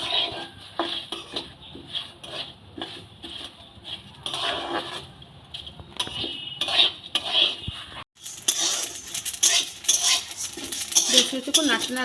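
Salted rice being stirred as it fries in a wok: a spatula scrapes and clatters against the metal in repeated close strokes, and a bright, busy rattle fills the final seconds.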